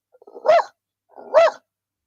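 A voice imitates a dog's bark, giving two short, bright yips about a second apart in otherwise silent surroundings.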